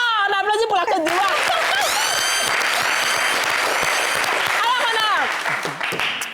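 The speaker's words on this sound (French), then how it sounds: "Ah, on applaudit pour la Côte d'Ivoire." A crowd at a festive television broadcast celebrating the Africa Cup of Nations applauds for Côte d'Ivoire, loud and sustained clapping mixed with cheers and shouts, easing off near the end.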